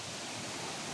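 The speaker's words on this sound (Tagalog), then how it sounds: "Lakas ng tubig dito." Strong water rushing through a forest stream makes a constant broadband roar, steady and unbroken, heard alone without voices.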